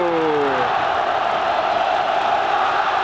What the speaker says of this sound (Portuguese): Começa a tremer o Morumbi com a torcida do São Paulo pulando, vibrando, buscando empurrar o time.